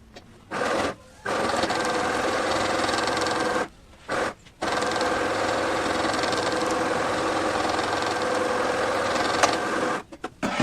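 A sewing machine stitches a double-folded hem on a lehenga in long, even runs of rapid mechanical chatter, loud and close, broken by a few brief pauses.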